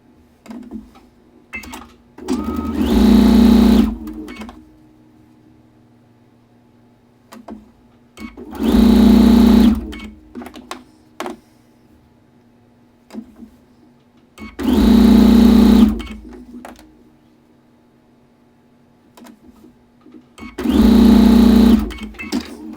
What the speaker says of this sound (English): now we're just sewing these last pieces onto our little log cabins